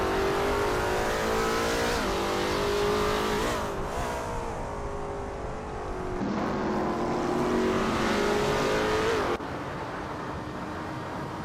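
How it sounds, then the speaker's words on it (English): A 2004 Koenigsegg CC8S engine in a racing video game revs hard and climbs through several gear changes. Each shift briefly drops the pitch before the loud, close engine winds up again. "driving a 2004 Koenigsegg CC8S"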